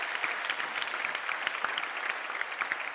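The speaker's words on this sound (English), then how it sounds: "give them another round of applause" An evening contest audience applauds its contestants after a public speaking round, a steady crowd of clapping hands with brief sharper claps standing out, sustained and even for the whole stretch.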